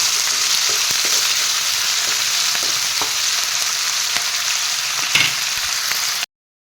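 Pigeon meat sizzles steadily in a hot pan while being stirred, with a constant bright frying hiss and occasional scrapes and clicks from the utensil, close and loud, before cutting off abruptly.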